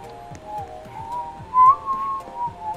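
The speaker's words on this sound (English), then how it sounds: "Probably shouldn't whistle." A person whistles a wavering tune in a Roblox game session, the clear melody drifting up and down with a louder swell midway, over a faint steady rhythmic game background.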